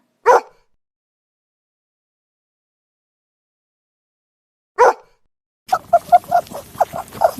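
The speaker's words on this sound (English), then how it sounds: "Dog." A dog barks twice with a long pause between, then lets out a quick, rapid string of sharp yappy barks, close by.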